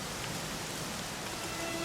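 Steady rain falls in the video game Dragon Quest XI, a dense, even hiss of droplets that continues without a break for the whole short stretch.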